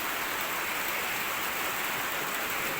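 Rain falling in a cool rural setting, a steady, even hiss of drops on surfaces, close and constant with no talk.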